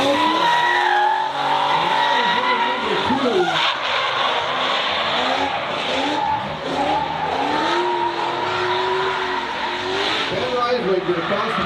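A drift car spins out at an SRD Drifting the Plains event, its tires squealing and skidding loudly as the engine revs and wavers, with an announcer talking over the action.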